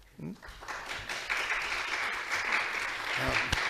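Applause from a lecture audience swells up and carries on steadily, with a voice briefly heard at the start.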